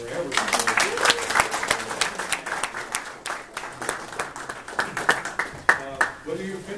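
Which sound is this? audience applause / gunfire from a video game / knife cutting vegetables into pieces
audience applause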